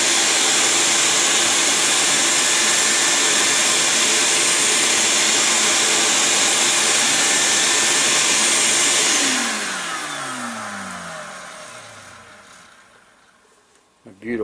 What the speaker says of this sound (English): I've got a shop vac. It's about right behind the camera, so it's pretty close.